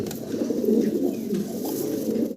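Pigeons, healthy and active, coo in a steady, continuous low murmur throughout, close and moderately loud with no voices.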